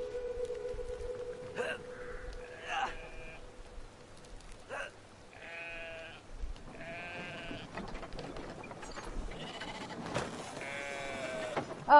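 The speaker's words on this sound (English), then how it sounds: "the sheep's heavy" Sheep bleat in the video game Brothers: A Tale of Two Sons, several wavering calls scattered across a soft rain-like ambient bed, the last few bunched close together and louder.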